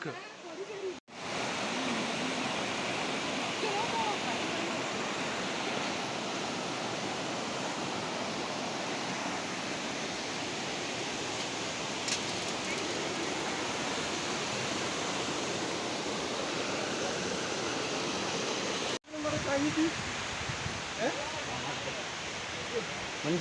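Siruvani waterfall, also called Kovai Kuttralam, with flowing water giving a dense, constant roar throughout, broken by two short cuts, while voices talk faintly beneath.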